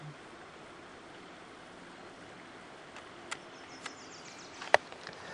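A quiet, steady wash of a clear stream in California runs throughout, with a few faint clicks and taps near the end.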